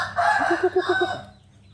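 One loud crow from a Burmese Phan Saeng fighting rooster rings out close by, a rising call followed by a short run of pulsing notes that fades away.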